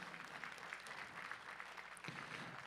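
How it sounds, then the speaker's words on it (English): Crowd clapping at a powerlifting competition awards presentation, a short steady burst of applause from the audience, somewhat distant, with a brief dip near the end. "One more round of applause for these ladies."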